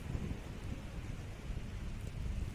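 Rain falls on a stadium during a throwing athletics event, a steady dense hiss with a low rumbling undertone, constant and moderately quiet with no talking.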